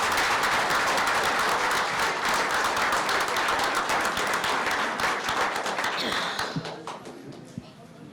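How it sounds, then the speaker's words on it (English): Audience applause at a school board of education meeting, a dense patter of clapping hands that holds steady for several seconds, then thins and fades toward the end, with a few scattered claps and some murmuring voices underneath. "Let's give them a round of applause."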